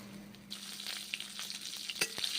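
Eggplant slices fry in a pan, a close steady sizzle with occasional spatula taps and scrapes as the pieces are turned.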